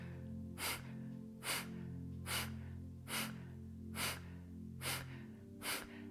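Seven sharp, forceful nasal exhalations of Kapalabhati breathing during a yoga posture, evenly spaced about a second apart, each a short breathy burst over a low background hum.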